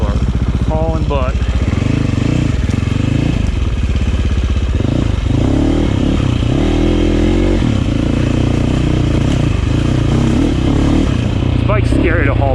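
Sherco dirt bikes ride fast along a clean trail, their engines revving and droning loudly and continuously with rising and falling pitch, while people talk over the engine noise.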